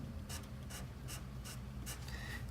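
A grey marker colours a small strip of a drawing in short, soft, faint scratchy strokes, about six quick passes spaced across a quiet background.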